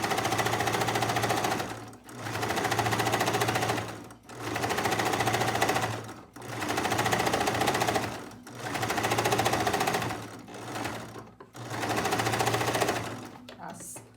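A sewing machine stitches a kitchen piece in long steady bursts of rapid mechanical whirring, about six runs separated by brief pauses, close and loud.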